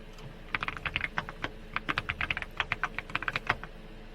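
Login credentials are typed on a computer keyboard in quick bursts of close, crisp key clicks with short pauses between them, quiet and alone.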